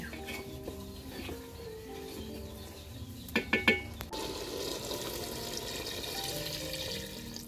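Broth is poured into a pot of bottle gourd curry cooked with prawns and black gram dal. It begins as a quiet clatter, then a short splashing burst, and settles into a soft continuous liquid rush.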